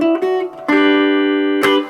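A short blues lick in G on guitar, picked notes ringing with sustained harmonics, a brief attack, a long held bend-like note, then a sharp final pluck, clear and close with no talk.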